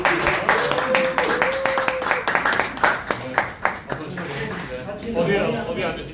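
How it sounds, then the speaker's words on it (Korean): Clapping to welcome a Seoul city council member as a guest at a small political talk event: a modest group claps in a loose, fairly quick rhythm that tapers off, with some background voices and a faint tone mixed in. "박수로 좀 맞이해 주시면 좋겠습니다"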